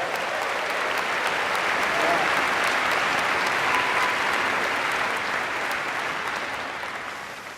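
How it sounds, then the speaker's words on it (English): Dense, steady applause from a large crowd at the Stanford Graduate School of Business 2018 diploma ceremony, honouring parents, family and friends. The clapping holds loud throughout and fades slightly at the end. "please join me in giving a big round of applause to all the parents, family, and friends of the class of 2018."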